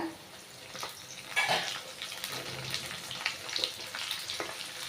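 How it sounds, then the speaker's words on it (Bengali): Dried fish (shutki) frying in hot oil with onions in a home kitchen, a steady close crackle and sizzle with scattered pops and brief clatters. "আমি তেলের ভিতরে শুটকিটা দিয়ে দিব"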